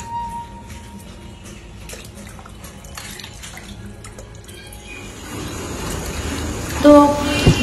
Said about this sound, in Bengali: তো পানি ছেড়ে দিয়েছি, পানিটা ছাড়ার।